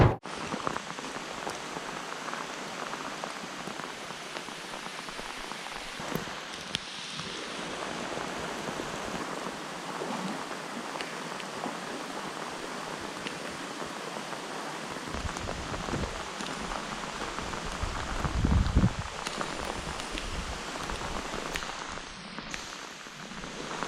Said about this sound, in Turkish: Evet şu an yağmurun altında ıslanarak